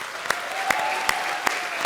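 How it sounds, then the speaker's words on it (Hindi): Studio audience applause on a comedy show stage, a brief burst of clapping with a few sharp accents rising above a steady background and a faint tone running underneath. "तो भाई हमारे आज के सुपरस्टार राजा के लिए एक बार जोरदार तालियां हो जाएं"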